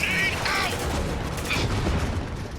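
A grenade launcher in the video game Spec Ops: The Line fires amid a battle, with a few loud bursts and blasts rising above continuous rumbling combat noise.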